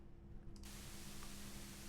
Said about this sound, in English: So now I've got this weird white noise going on.